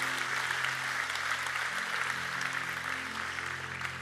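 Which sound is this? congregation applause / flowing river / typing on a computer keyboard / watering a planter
congregation applause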